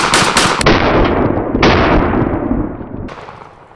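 A Panzer AR12 semi-auto shotgun loaded with Wolf double-aught buckshot fires several loud, close shots in quick succession, each blast leaving a long booming decay. A final shot comes near the end of the short burst.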